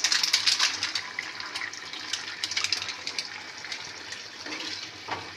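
Garam masala stirred into water pours into a simmering chicken curry, giving a close, continuous gushing splash that fades slightly toward the end, with no voices.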